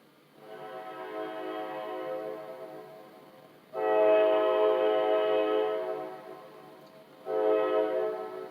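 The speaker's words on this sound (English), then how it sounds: "There's a train going by out there somewhere." A distant train horn sounds in long, steady blasts, three drawn-out tones with short pauses, carrying faintly from afar.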